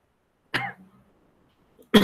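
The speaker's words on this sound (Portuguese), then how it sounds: "Não é possível mesmo dar tosse agora" Two separate coughs from a person, sharp and close, with a short quiet gap between them; the second is louder and cut off at the end.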